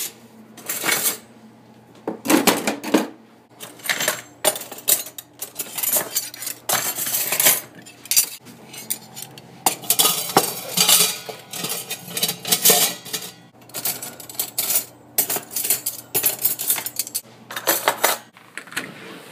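Knives, forks and spoons being taken from a dishwasher's cutlery basket and put away on a kitchen counter: repeated bright metallic clinks and jangles in irregular bursts, close and fairly loud, with brief pauses between handfuls.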